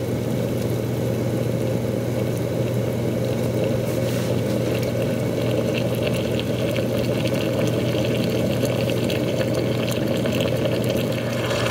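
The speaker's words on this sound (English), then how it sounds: "And we've got a nice little simmer going." Water simmering inside a 9Barista stovetop espresso maker, a steady close bubbling hiss with a low hum that holds evenly throughout, with no talk.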